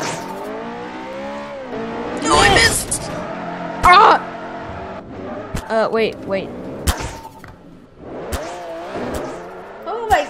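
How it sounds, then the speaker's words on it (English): A car in the Garry's Mod DarkRP video game drives and revs with rising engine sweeps and sharp impact noises, while players talk loudly over it. "I have to drive this car. We're gonna ram that red car."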